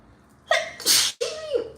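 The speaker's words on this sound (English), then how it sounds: "I just sneezed twice" A person sneezes twice in quick succession, each sneeze a sharp, loud, close burst with a brief gasp before it, with no talking.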